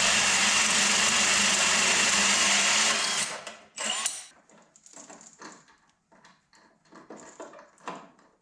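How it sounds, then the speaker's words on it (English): A power drill bores holes for JIC hydraulic gauge hose fittings on a firewood processor, running loud and steady for about three seconds, then giving way to a short burst and scattered quieter clanks and handling noises. "I'm drilling up through the bottom and just run the hose down through the bottom."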